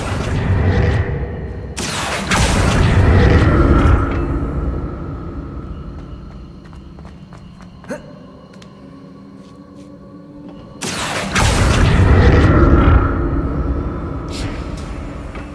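The Accio summoning spell in Hogwarts Legacy, cast in the video game, produces two loud rushing whooshes with a deep rumble under them, separated by a quieter stretch with a small tick in between.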